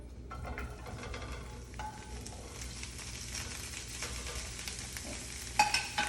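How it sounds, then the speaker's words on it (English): Broccoli sautéing in heated oil in a pan, a bright crackling sizzle with scattered pops and stirring scrapes, close up and steady, rising slightly toward the end with no talk. "We're going to start with our broccoli. Just going to put all of it into the pan."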